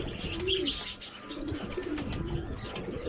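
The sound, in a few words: pigeon chicks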